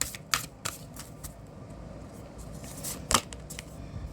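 Tarot cards being shuffled by hand, a few quiet riffling bursts and soft card clicks close by, with one sharper flurry near the end, no talk.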